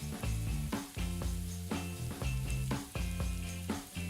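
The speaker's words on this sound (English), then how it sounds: "Let this simmer for some time." Black-eyed pea (lobia) masala curry with boiled beans and salt simmers in a pan, giving a quiet, steady sizzle and bubble with soft pulses throughout, no talking.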